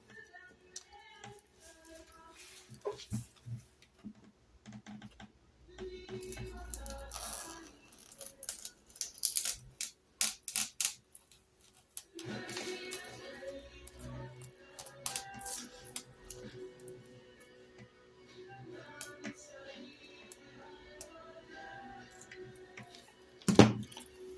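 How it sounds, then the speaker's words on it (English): A roller cutter runs along a turkey feather quill, making irregular clicks, taps and rattling bursts of cutting and handling. The sounds are close and intermittent, with quiet gaps between them. "take our roller cutter, and we're just going to follow the guideline basically all the way up and get a nice clean cut on there"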